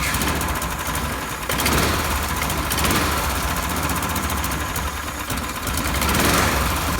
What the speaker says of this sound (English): the engine's running on the previous tune and isn't set up for the supercharger yet, so it's running a little rough